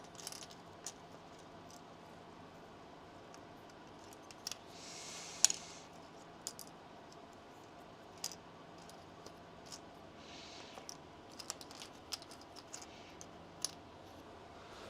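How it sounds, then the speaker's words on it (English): Small plastic keycaps are snapped back onto an Atari 400 keyboard one at a time, producing sparse, sharp clicks and taps at an irregular pace in a quiet room. "you guys ready for the satisfying putting all the keys back on?"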